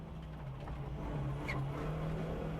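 Toyota Starlet turbo launching on a time trial, engine climbing in pitch and shifting up early, a continuous fairly distant drone with a brief whistle partway through.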